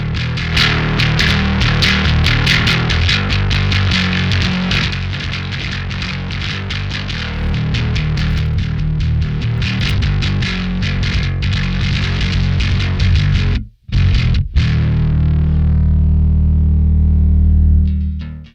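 A gritty, distorted electric bass plays a loud, steady riff, briefly cutting out near the end before a sustained low note rings on.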